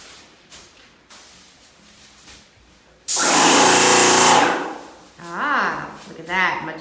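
A Wagner Control Pro 130 airless paint sprayer fires a loud, steady hiss of spray for about two seconds with its fan set horizontal for painting a sunroom, then cuts off, followed by people talking nearby.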